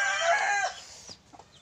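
A backyard chicken crows loudly and close for about a second, then trails off into a few faint clucks.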